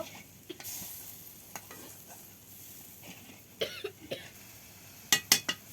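Chili and turmeric powder paste frying in a pan for a taro-stolon and dried shrimp curry, with a soft steady sizzle broken by sharp spatula scrapes and knocks, louder near the end.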